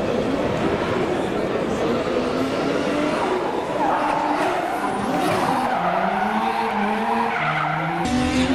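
A rally car roars by at speed at Val d'Argenton, France, engine revving and tires skidding on loose ground, loud and close with the pitch shifting as it passes.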